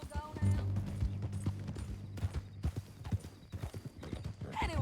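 Horse hooves clip-clop in steady rhythm in Red Dead Redemption 2 while a horse neighs briefly. Voices talk over the clear, close hoofbeats.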